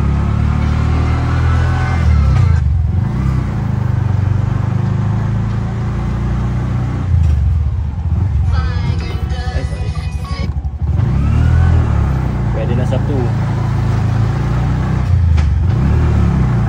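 A Bajaj RE auto rickshaw engine runs close by as it is driven, its steady mid-pitched drone rising and falling with a few brief revving surges and gear changes, with no one talking.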